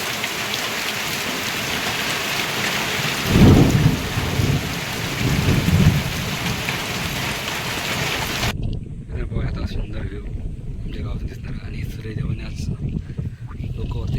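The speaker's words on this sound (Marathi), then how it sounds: "पण तो अजून पाऊस चालूच आहे" Heavy rain pours down steadily on a village with dense hiss and low rumbles, later shifting to a nearer patter with scattered drips.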